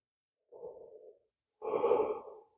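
Two slow audible breaths come during a yoga core exercise: a softer exhale followed by a louder, fuller breath, both close and breathy, set apart by silence.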